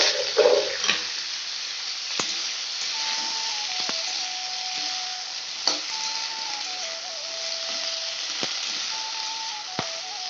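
Spices for a tempering crackle in hot oil in a home kitchen, giving a steady close-up sizzle with sharp pops and a faint thin tone drifting in and out.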